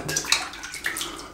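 Cold water runs steadily from a bathroom tap for a rinse during a wet shave with an Edwin Jagger 3ONE6 razor, a soft splashing stream with small irregular bursts, close by and fairly quiet.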